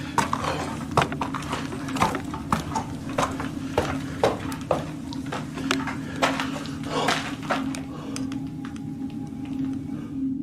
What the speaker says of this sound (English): Okay, those were footsteps.